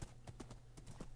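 Horse hooves clip-clopping in the Minecraft video game, a run of evenly spaced hollow clops close by and at moderate volume.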